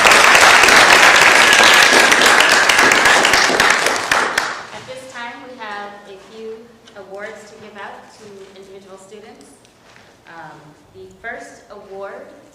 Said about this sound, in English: So round of applause, students.